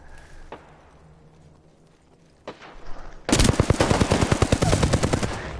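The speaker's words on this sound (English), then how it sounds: "He's just squeezing off and the rounds are going everywhere but touching me." Video game gunfire begins with a few scattered shots. A loud machine gun then cuts in and fires a long, rapid, steady burst at close range until the end.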